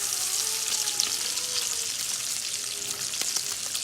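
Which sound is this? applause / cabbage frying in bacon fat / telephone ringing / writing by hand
cabbage frying in bacon fat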